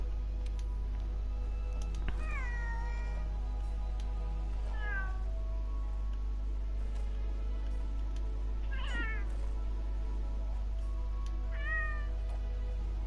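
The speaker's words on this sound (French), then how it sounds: "ça fait vraiment petit chat" A small cat character's voice in Monster Hunter World gives four short, high meows spaced a few seconds apart over a steady game background hum, with no talking.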